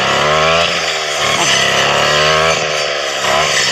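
Grass cutter trimming weeds around krachiao flowers outdoors: a steady, loud two-stroke engine drone running throughout with slight rises and dips in pitch, close by, with a voice talking over it.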